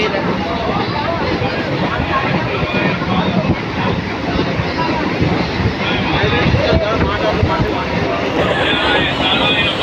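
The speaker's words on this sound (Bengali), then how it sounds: "এই দেখো কি মারাত্মক বৃষ্টি হচ্ছে" Heavy rain pours down at a railway line on the way to Tarakeswar, a dense, loud, steady hiss and roar with wind buffeting the microphone throughout.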